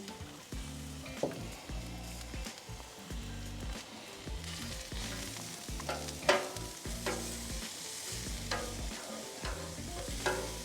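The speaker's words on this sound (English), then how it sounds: "Let's get our onions on." Onions sizzle and fry in sesame oil on a Pit Boss Ultimate Griddle, a steady crackling hiss broken by repeated scraping stirs of a spatula, with no talking.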